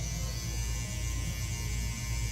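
An electric hair trimmer runs steadily while cleaning up a medium bald fade, giving a close, continuous buzzing hum with no talking.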